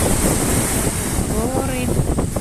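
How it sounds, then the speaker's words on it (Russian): Strong sea waves breaking on the beach at Gagra in the evening, a loud continuous roar of surf mixed with heavy wind buffeting the microphone, with a voice speaking briefly over it. "Так сильно бьют волны."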